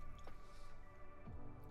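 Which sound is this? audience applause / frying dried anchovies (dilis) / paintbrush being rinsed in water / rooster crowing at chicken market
paintbrush being rinsed in water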